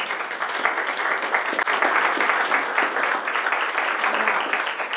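Audience applause at a village hall grand opening in Framingham, a sustained dense crowd of clapping hands indoors, steady and fairly loud for several seconds.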